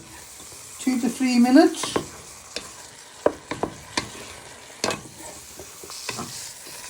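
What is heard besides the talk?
vegetables being stirred and fried for beef stir fry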